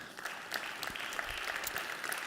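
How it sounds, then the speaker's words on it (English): Applause from a conference audience at a finance and net-zero event, a fairly quiet, steady patter of clapping lasting a couple of seconds with no talking. "You can give her a round of applause"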